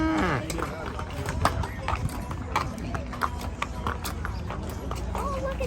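Cattle walk past at close range during a stockyards cattle drive. Hooves clop steadily over a dense, continuous crowd-and-herd rumble, with people talking nearby throughout.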